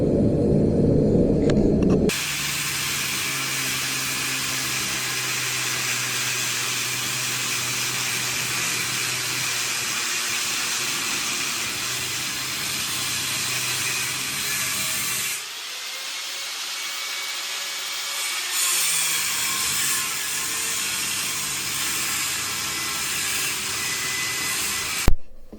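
A cut slices through an engine part from a 1995 Polaris 300 oil-injected two-stroke, giving a loud, steady grinding whine. It dips briefly partway through, then resumes and ends with a sharp clack.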